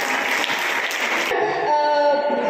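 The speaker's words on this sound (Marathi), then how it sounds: "तिच्यासाठी पण जोरदार टाळ्या वाजवा." An audience at a Women's Day gathering applauds a student's rangoli with a dense burst of clapping that fades after a second, leaving a tonal hum beneath.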